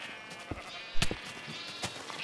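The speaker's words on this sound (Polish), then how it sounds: "Uwolnić owce." Sheep bleat in a blocky survival video game, a few short bleats spread across the moment, with the loudest cluster in the middle and fainter ones before and after over a steady game backdrop.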